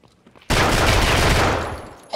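A sudden, loud burst of gunfire erupts in Escape from Tarkov, a dense crackling volley lasting over a second and then tapering off, followed by a brief voice.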